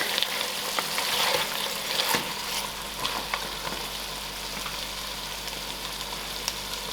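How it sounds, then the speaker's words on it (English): Lamb meat frying in a pot for stew, a dense, even sizzle filling the whole stretch with occasional faint stirring clicks, steady and close with no talking. "Okay, now my meat is fried out."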